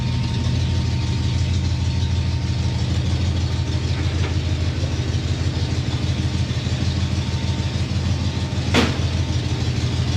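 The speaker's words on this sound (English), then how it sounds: "That new carburetor sounds pretty good. And I didn't even have to adjust the idle." A Ford Mustang engine with a new carburetor idles steadily and close by, a continuous low rumble with no speech over it.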